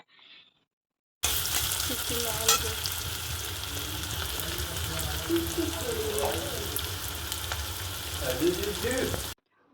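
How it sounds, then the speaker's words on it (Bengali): Chopped onions frying in a pan while being stirred, a steady close sizzle with scraping stirs, for a Bengali-style loite (Bombay duck) fish jhuri dish; the spoon scrapes stand out over the constant hiss. "পেঁয়াজ কুচিটা দিয়ে কিছুক্ষণের জন্য নাড়াচাড়া করে নেব"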